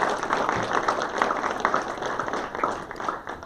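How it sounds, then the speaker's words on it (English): Audience at a startup lab event clapping to welcome a speaker onto the stage, a steady wash of many hands at moderate level through the whole stretch. "And Bill, let's give him a big round of applause and welcome him up to the stage"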